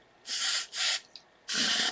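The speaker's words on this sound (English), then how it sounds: "let's spray it all the way around because that sticky label was everywhere" Hairspray aimed around the outside of a glass jar to loosen sticky label residue, three short hissing bursts in quick succession, close and clear, with no speech.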